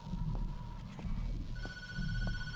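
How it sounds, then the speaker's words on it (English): Electronic ringing tones in the horror video game Tattletail, thin steady beeping lines rising in pitch midway, heard over a low rumbling background with a few soft knocks and no speech. "I'm not making the ringing noise."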